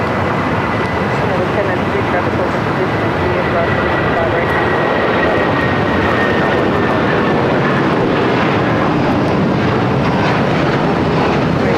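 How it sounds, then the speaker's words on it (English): A United Boeing 757-300 takes off at Los Angeles International Airport, its engines a loud, steady broadband roar that fills the scene with a faint high whine riding on top. "Next takeoff, another United 757-300, this time heading to Denver"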